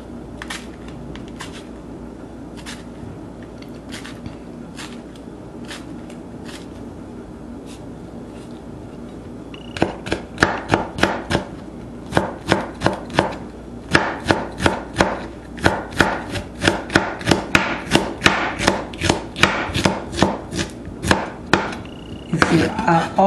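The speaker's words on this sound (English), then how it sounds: "So this is how I chop the okra." Okra being chopped with a knife on a board for Cameroonian okra soup. Sparse, light cuts come first, then a fast, steady run of close, crisp chops.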